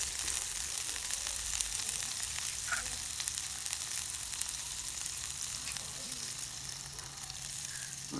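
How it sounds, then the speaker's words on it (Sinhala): Hot oil sizzles in a pan as a small test piece goes in to check the heat, a continuous close crackling hiss with faint stirring scrapes and no speech. "පොඩ්ඩක් දාලා බැලුවා මේ තෙල් රත් වෙලාද කියලා."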